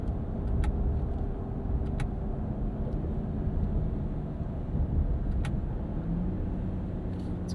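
Cabin of a 2025 Ram 1500 RHO truck with a 540 hp twin-turbo inline-6 under way in sport mode, a steady low engine and road drone running throughout, with a few faint clicks and no clearly marked gear-change bumps.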